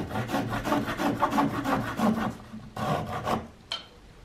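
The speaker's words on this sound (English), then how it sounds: "I'm gonna trim these down and I'm gonna turn them into little hooks." Rhododendron wood pieces being trimmed into small hooks in a makeshift workshop, giving a steady run of rhythmic rasping strokes up close, then a brief pause before a few more strokes and a short high scrape.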